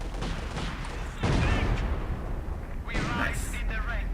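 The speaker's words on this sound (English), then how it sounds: "And more artillery coming in on these guys." Artillery shells land in Company of Heroes 2 during a winter battle at Rzhev, a rumbling barrage of booms and crackling blasts under ongoing battle noise.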